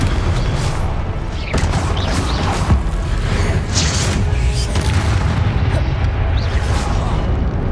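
A Confringo explosion spell blasting in the Hogwarts Legacy video game, a loud boom followed by continuous rumbling combat effects and crackling bursts, dense and close throughout.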